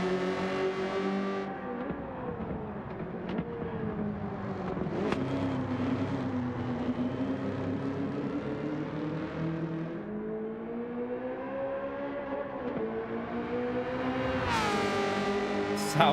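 A GR.3 race car engine revs in Gran Turismo 7 at Watkins Glen, a loud continuous engine whine rising and falling through gear shifts and braking, with a sharp high rev surge near the end; faint talk underneath.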